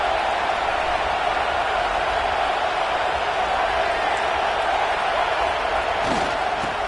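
A packed virtual stadium crowd in College Football 26, during a Georgia versus Florida State game, roars as a steady, unbroken wash of noise at an even level throughout.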